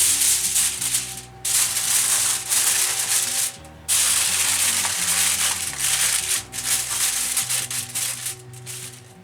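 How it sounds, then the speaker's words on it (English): Aluminium foil crinkles and scrapes as it is pressed and crimped over a roasting dish of Greek chicken pot roast, a loud, continuous rustling in bursts with brief pauses. "Nice bit of foil over the top."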